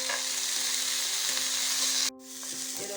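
Masala spices (turmeric, chilli and coriander powder) sauté with peas in a pan for a baby corn masala, a continuous close sizzle with stirring scrapes that drops abruptly partway through and then resumes more softly.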